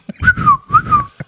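A person whistling a short, bright rising and falling tune up close, two sustained notes with a quick breath or click before and after.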